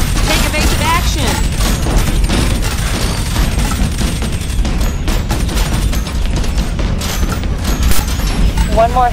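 Heavy gunfire in the video game Pirate Patrol: dense, continuous bursts of shots and booms with mechanical clatter, loud and relentless throughout, under an occasional voice.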